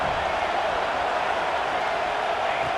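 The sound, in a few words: crowd noise in a college football video game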